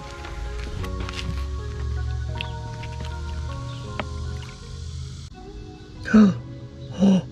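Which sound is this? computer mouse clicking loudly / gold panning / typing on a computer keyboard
gold panning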